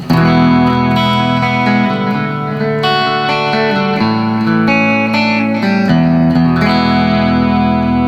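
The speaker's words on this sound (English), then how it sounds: "It adds a chorus to it, in essence, along with the delay" Guitar played through a Boss delay pedal on its mod setting, chorus layered with repeats into an amp with reverb; sustained chords ring steadily and loudly with shimmering echoes and no talking.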